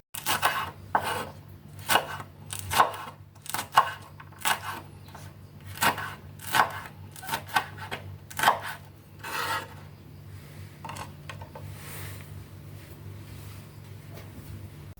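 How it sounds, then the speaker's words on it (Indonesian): A knife slicing three curly green chilies diagonally on a cutting board, a run of about ten crisp, evenly spaced cuts that grows denser and softer toward the end over a low background hum. "Tiga buah cabai hijau keriting, lalu diiris-iris menyirong seperti ini, atau diiris-iris bulat"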